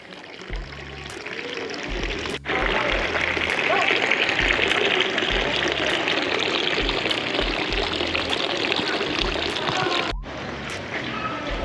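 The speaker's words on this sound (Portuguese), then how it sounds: "E sempre aquela água fresca a correr naquelas fontes." Fresh water runs from a public fountain in Lucerne, a steady close splashing pour that holds for most of the stretch, with brief low voices audible underneath near the start and end.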